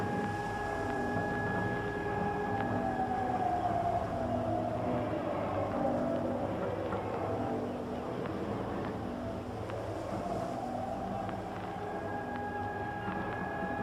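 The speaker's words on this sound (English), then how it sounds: "Well, sirens, war sirens. Like bomb sirens." A wailing war-style air-raid siren, like a bomb alert, rises and falls slowly over a steady rumbling background, continuous and fairly distant across the whole stretch.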